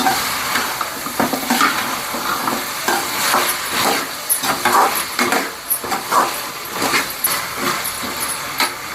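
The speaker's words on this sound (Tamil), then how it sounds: "இந்த முருங்கைக்காய் நல்லா இந்த வெங்காயம் தக்காளி கூட நல்லா வதங்கி நல்லா சுருங்கி வரணும்" Drumsticks sauteing with onion and tomato in a pan for a village-style Tamil kuzhambu, a steady sizzle broken by repeated scraping stirs and utensil knocks at a close, even level.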